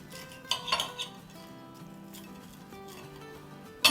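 A knife cuts into crispy fried chicken steak Milanese on a plate, giving a quick cluster of crackly crunches and cutlery clinks early on, then a soft scraping lull and a final sharp clink.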